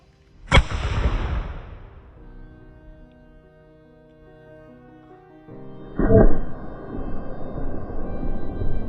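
An ornate bronze lost-wax cannon fires with one sharp, loud boom that rolls off into a long echoing decay, followed several seconds later by a second heavy blast with a lingering rumble.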